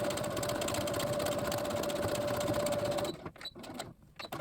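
A sewing machine runs a steady, loud running stitch along a fabric face mask strap for about three seconds, then stops, leaving soft handling noises.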